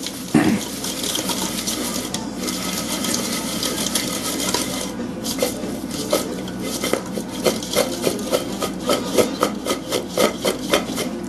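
Peach pieces tossed with a light coating in a bowl: close, continuous rustling and scraping, ending in a run of rhythmic soft knocks as the bowl is shaken, with no talking.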